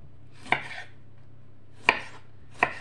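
A knife slices the hard end off a tomato on a cutting board, three sharp separate chops with quiet gaps between, close and clear over a low steady hum.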